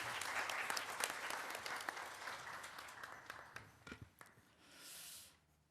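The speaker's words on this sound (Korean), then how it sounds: "큰 박수 부탁드립니다" An audience applauds at a constitutional revision forum, many hands clapping in a full, sustained wave that thins and fades out toward the end, followed by a brief soft rustle.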